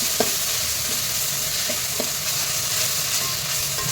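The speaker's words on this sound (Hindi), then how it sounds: "अब हम इसमें अदरक लहसुन डाल देंगे।" Ginger garlic paste sizzles with fried onions in a pan, a loud steady hiss of frying with occasional light clicks of stirring, close and continuous without talk.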